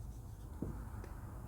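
Chalk or marker writing on a classroom board during a class 10 physics lesson on lens formula theorems, a soft continuous scratching with one brief stroke accent, close and alone without talk.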